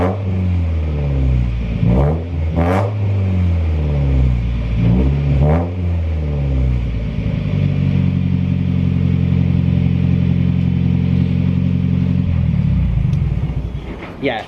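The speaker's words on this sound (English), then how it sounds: "So he's gonna go ahead and rev it a bit." A Mazda NA Miata engine fitted with an ISR exhaust revs loudly several times in sharp bursts, then holds a steady, loud, droning high rev before easing off, heard up close.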